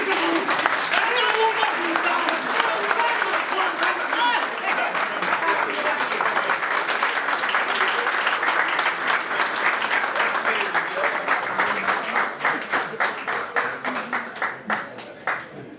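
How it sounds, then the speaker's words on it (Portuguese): Sustained audience applause at a book launch event in Luanda, a dense crowd of clapping hands filling the room, steady and loud before thinning into scattered individual claps toward the end. "Podemos fazer isso, uma salva de palmas"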